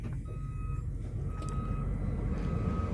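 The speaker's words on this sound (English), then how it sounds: "I think I better move this damn truck." A truck's reversing alarm sounds a few steady high beeps over a loud, rumbling diesel engine idling close by, with no one talking.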